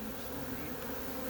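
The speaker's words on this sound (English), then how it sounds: "This was a big swarm." A big swarm of bees buzzes as a soft, continuous drone that hums steadily at a moderate distance throughout the short stretch.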